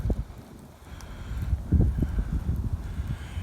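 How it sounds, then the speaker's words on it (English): A breeze gusts outdoors beside a home fire pit where trash and sticks are burning, making a low, rumbling buffet of wind that swells and eases over a few seconds, with no voices. "A little bit breezy."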